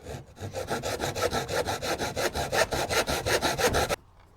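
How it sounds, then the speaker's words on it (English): A handsaw cuts small pieces of timber for bracing a greenhouse, with about two dozen quick, evenly spaced rasping strokes close by, stopping abruptly after four seconds. "The old-fashioned way with the handsaw."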